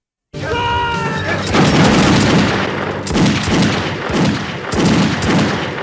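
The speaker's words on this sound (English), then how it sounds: "Oh, they got that Gatling gun on his ass." Gatling gun fire from the 1988 Western film Young Guns, loud rolling bursts of rapid booming shots that swell and ebb over several seconds, with a brief tonal voice-like sound at the start.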